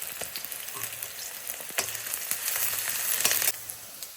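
Green chilies, shallots and ginger garlic paste fry in hot oil, giving a continuous close sizzle with occasional spatters and scraping stirs that swell briefly near the end.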